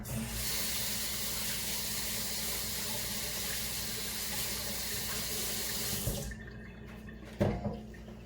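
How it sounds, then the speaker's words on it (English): Tap water pours steadily into a kitchen sink as hands are rinsed after handling fish, a loud broadband rush that runs for about six seconds, then cuts off, leaving a few faint knocks and drips. "let me rinse my hands real quick"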